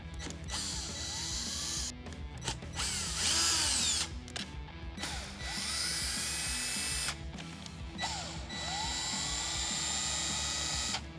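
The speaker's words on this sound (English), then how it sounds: "first thing we'll need to install the rear speakers is a T10 for these 4 screws here." A power driver backs out T10 screws holding the rear speakers in a Harley-Davidson Tour Pak, whirring in short repeated bursts with rising and falling motor pitch and mechanical clicking, close up and without talk.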